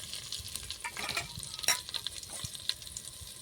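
Asafoetida, curry leaves, turmeric and chilies are stirred through hot tempering oil for dal, a soft sizzle under irregular spoon scrapes and clinks, with one sharp metallic knock partway through.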